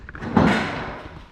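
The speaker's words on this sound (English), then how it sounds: "Just open your door," The door of a Can-Am Maverick X3 side-by-side swings open with a close, solid thump and rattle, followed by a brief fading clatter.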